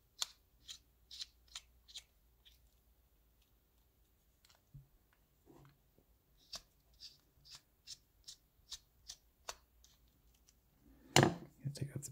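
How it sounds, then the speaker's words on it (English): A Phillips screwdriver backs screws out of a Hyundai Kona key fob, producing a series of small, close, sharp clicks and ticks in short rhythmic runs, with a brief louder rattle near the end. "use your Phillips to take off these two screws"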